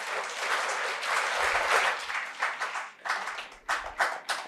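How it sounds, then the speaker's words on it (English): An audience claps together in a rhythmic butterfly clap, sustained applause that breaks into pulsing groups of beats toward the end. "Then give a butterfly clap."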